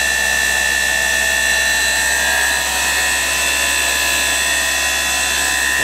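A KSI SQC-38 CNC Swiss lathe runs its live rotary tools at 4,000 RPM, synchronized with the sub-spindle and heard from about four inches away as a steady, loud, high-pitched whine with sustained tonal harmonics and no break.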